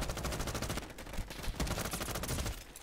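Rapid automatic gunfire with recoil in Roblox Modern Warfare 2 crackles in dense, continuous bursts, fairly quiet in level, with a few heavier shots standing out through the stretch.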